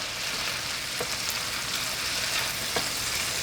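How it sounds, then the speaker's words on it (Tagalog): Beef tapa sizzles and crackles steadily in a hot pan, a continuous dense hiss with a couple of faint clicks. "piniprito na natin itong ating beef tapa"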